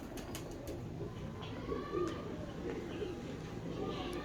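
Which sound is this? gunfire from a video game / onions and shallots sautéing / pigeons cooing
pigeons cooing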